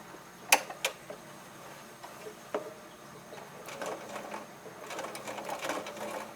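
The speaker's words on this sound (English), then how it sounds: "Place it under my machine, making sure that no other material is caught under there, and I'm going to sew across this." A home sewing machine stitches across doll backpack fabric, a steady mechanical whirr of the needle running in bursts that grow denser toward the end, preceded by a few sharp clicks, close and fairly quiet, with no talking.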